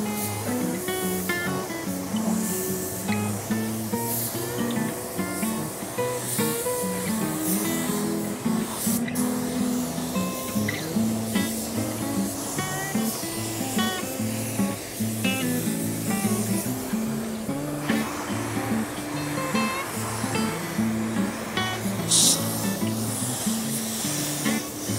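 A spray gun lays clear coat onto Harley-Davidson motorcycle parts, giving a steady, continuous airy hiss under background music throughout.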